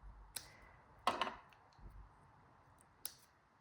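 Scissors snipping a small paper scrap into fringe: a few sharp, close cuts, one a quick double snip, separated by quiet pauses.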